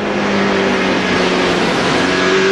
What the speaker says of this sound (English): look at all this side-by-side, 3-wide racing Skinner on the bottom